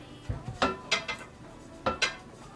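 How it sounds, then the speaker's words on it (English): A large cooking pot set down into a kitchen cabinet, giving several separate metallic clanks and knocks in quick succession, close and fairly loud, with no talking. "Put this big pot here."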